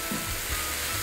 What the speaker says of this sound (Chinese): 咁而家咧我會攢啲紹酒落去嘅